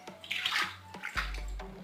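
Floodwater runs and splashes steadily into a house through a switch box, with gurgling bursts and a continuous rushing flow, no voices.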